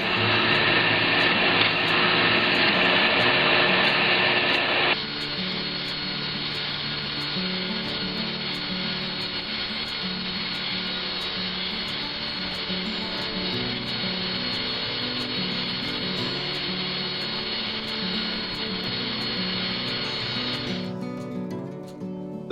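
A power tool grinds the edges off a wooden crappie crankbait cut from 3/4 inch wood, a steady, loud, continuous whine that runs almost the whole time, harsher and brighter for the first few seconds before settling into a lower drone.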